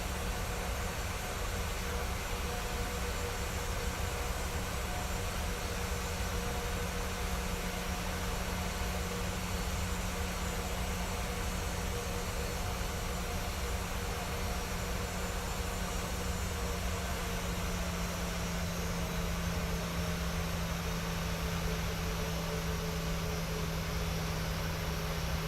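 A steady, even airliner cabin engine drone from a Qantas flight between Hobart and Darwin in Microsoft Flight Simulator 2020, a constant broadband rumble and hiss that holds unchanged throughout with no talking.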